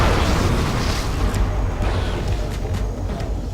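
Weapon fire in the futuristic racing game Wipeout Pulse produces a dense rumbling blast with heavy low-end roar, followed by several short sharp pops and crackles over a few seconds, loud and close.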